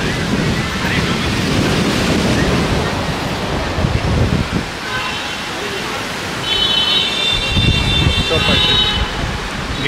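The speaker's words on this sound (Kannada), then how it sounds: "ನೀರಿನ ಸೌಂಡ್ ಬರ್ತಿದೆ, ಫುಲ್ ಗಾಳಿ ಇದೆ" Sea waves roll in and wind buffets the microphone along the seafront promenade at Marine Drive, Mumbai, a loud continuous wash of surf and gusts with surges rising and easing throughout.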